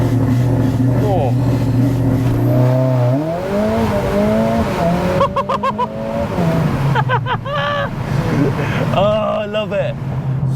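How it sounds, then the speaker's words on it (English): Mercedes-AMG A45S with a Cobra Sport exhaust building boost from a launch, engine note climbing loud and close through gears with pops, while a voice exclaims over it. "when it's actually building the boost, listen to this."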